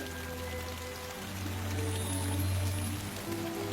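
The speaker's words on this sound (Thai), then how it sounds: "ฝนตกเธอบินไม่ได้เหรอ" Steady rain patters down in a Tinker Bell cartoon scene, a continuous wash of drops that swells slightly louder midway, with no talking over it.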